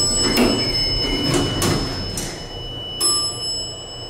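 A Dover traction elevator's arrival bell rings with clear sustained tones while a sliding door rumbles open and closes, a few soft clunks under a steady hum.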